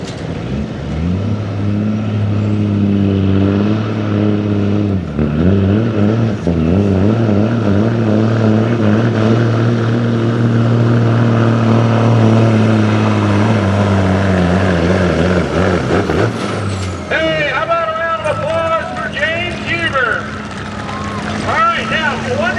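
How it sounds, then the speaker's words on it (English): An electronic-motor diesel pickup revs hard during a diesel truck pull shootout, its loud, close engine drone rising and holding in long sweeps before dropping off, with an announcer's voice over the crowd noise throughout. "This is an electronic motor truck."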